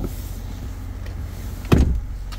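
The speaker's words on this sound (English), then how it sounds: "Power rear slider" Power rear sliding window on a 2021 GMC Sierra 1500 pickup opening: a low motor hum runs steadily, then a short louder clunk and whir near the end as the glass moves, with no talk.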